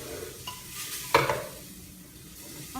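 Beef sears in a hot pan while being cooked for a pot pie, giving a steady close sizzle with stirring and a sharp scrape or clatter of a utensil about midway.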